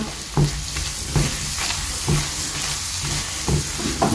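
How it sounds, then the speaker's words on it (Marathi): Spices and onions frying in a pan for Konkani-style brinjal bharta, a constant hiss of sizzling oil broken by regular scraping strokes of a spoon stirring and pressing the mixture. "आतां हे सगळे मसाले न्ही ऑनियन्साचे बराबर बरें मिक्स करून घेया आनी फ्राय करून घेया"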